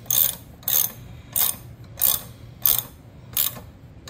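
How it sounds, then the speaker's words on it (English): A 1/8 NPT tap cuts threads for a mini bike breather fitting, making six evenly spaced ratcheting clicks as the handle turns in regular strokes at close range. "Make sure I'm making my threads. Go a few turns in."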